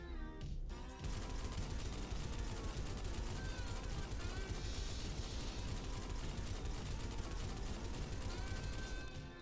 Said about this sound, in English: This is the Hammerhead light machine gun.